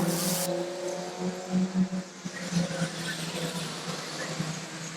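Stock car engines roar steadily through turns 3 and 4 of an oval track, a dense rumbling drone with rising and falling revs from several cars, heard from a distance with commentary over it.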